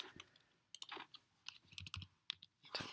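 Close, quiet typing on a computer keyboard, with irregular clusters of sharp key clicks and short pauses between them, no voices.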